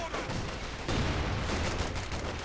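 A brief burst of battle gunfire from a World War II real-time strategy game, heard as dense overlapping rattling shots that form a loud, continuous wash with a slight surge midway.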